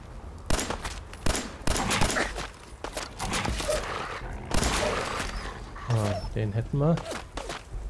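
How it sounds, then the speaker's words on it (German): Gunfire in the video game Fallout 4, several sharp bursts and single shots spread across the scene, loud and close, mixed with in-game footsteps and creature growls while someone talks in German over it. "Schüsse."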